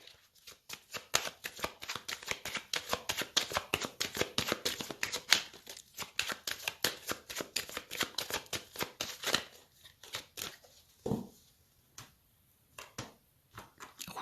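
Tarot cards being shuffled and cut, a long run of quick crisp flicks and riffles close up, then sparser separate snaps as the deck is handled more slowly.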